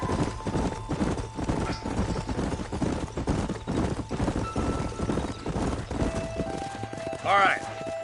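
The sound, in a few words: horses walking, hooves clip-clopping, from video game Red Dead Redemption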